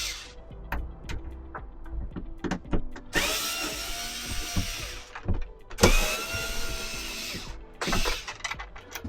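A driver with a small T20 Torx bit works on motorhome window blind fittings. It gives quick ratcheting clicks and taps, with two longer bursts of whirring mechanical grinding, close up and with no talk.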